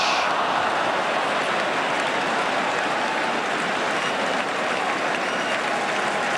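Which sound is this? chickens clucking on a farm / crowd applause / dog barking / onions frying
crowd applause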